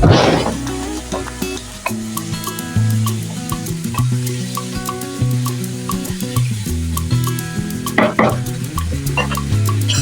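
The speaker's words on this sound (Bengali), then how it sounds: "কর্নফ্লাওয়ারটা দিয়ে দেব খুব সুন্দর করে এখন আমি এটাকে নেড়ে চেড়ে নামিয়ে ফেলবো" Chicken with dissolved cornflour being stirred in a frying pan, a steady sizzle under repeated scraping and clinking strokes of a spatula against the pan, close and continuous.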